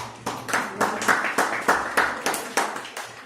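Rhythmic clapping for a sister at a church training session, about a dozen evenly spaced, fairly close claps in a steady beat, like a small group clapping in unison.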